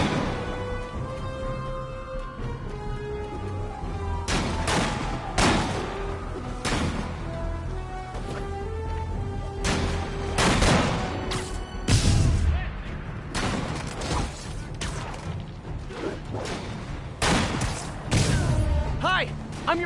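Sniper gunfire in a Spider-Man video game: repeated sharp, loud shots and booming impacts at irregular intervals over a steady game soundtrack, with a voice speaking at times.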